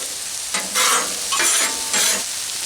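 Beef stir fry sautéing on a Blackstone griddle, a steady close sizzle swelling into three loud bursts of scraping and hissing as the meat is pushed and turned, with no talking.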